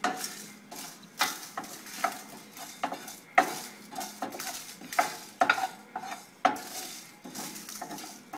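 Four dry ingredients, including yellow peas, dry-fried in a kadai, heard as rhythmic scraping and clattering strokes of a spoon against the metal pan over a faint sizzle, with no talking.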